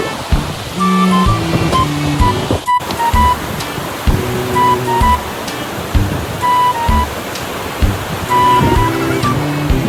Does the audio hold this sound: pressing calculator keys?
no